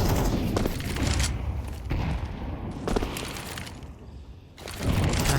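Grenades exploding one after another on the Banana area of a Counter-Strike map, a series of booming blasts with crackling debris, loud and dense across the whole stretch.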